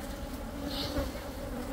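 Honeybees in an opened hive drone with a steady buzz of layered hums, close and continuous, swelling briefly near the middle.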